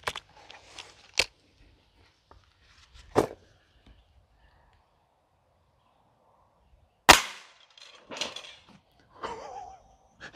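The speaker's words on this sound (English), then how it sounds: "I'm going to go ahead and cock the Gamo Magnum." A Gamo Magnum break-barrel air rifle being cocked and fired, with a few sharp, loud mechanical snaps and cracks spread apart by quiet gaps, followed by softer clatter and handling noise.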